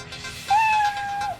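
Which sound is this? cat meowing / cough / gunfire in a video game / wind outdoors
cat meowing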